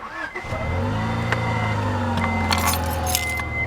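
Keys jangle briefly at the start, then a car engine starts and idles with a steady low hum, rising slightly while a few faint metallic clinks sound near the end.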